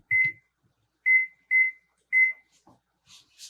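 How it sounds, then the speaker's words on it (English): A kitchen timer is being set for boiling potatoes. It gives four short, clear, high electronic beeps at uneven intervals, followed by faint soft clicks and rustles. "then I'm going to set my timer for 23 minutes"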